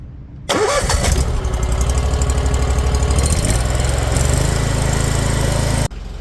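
A drain jetting machine's engine fires up with a sudden start and settles into a loud, steady close-up mid-pitched running chug, briefly dipping just before the end.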